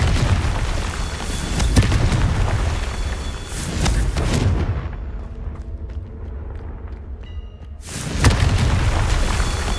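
A Confringo spell explosion in a Harry Potter video game: a heavy booming blast with rumbling debris, then a brief quiet stretch before another loud burst of impact sound.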